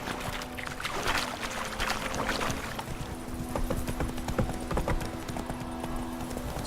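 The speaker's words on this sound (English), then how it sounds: "Giddy up." Horse hooves clip-clop at a steady pace in The Witcher 3, the rhythmic beats carrying on through the whole stretch over a soft game ambience, with a faint whinny and music-like tones in the background.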